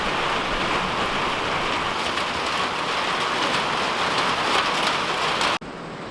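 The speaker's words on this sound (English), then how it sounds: "hopefully in a minute this rain will stop" Steady, dense rain pours outdoors near a barn with trees, a loud continuous hiss running unbroken for most of the stretch before dropping abruptly in level near the end.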